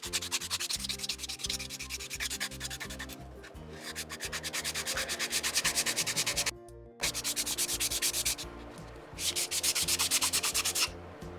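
A fingernail buffing block, roughly 180 grit, scuffs cured UV resin on a dragon egg ornament in fast, rhythmic rubbing strokes, close and continuous apart from a couple of brief pauses.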